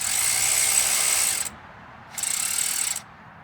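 Ratchet wrench with an 11 mm socket loosening a bolt during engine removal on a 2009 Subaru Forester EJ253, two close bursts of rapid clicking separated by a short pause.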